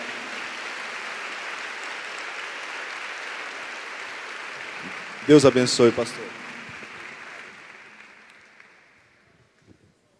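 Applause from a church congregation, a broad steady wash of clapping fading out slowly toward the end, with a voice speaking briefly over it midway.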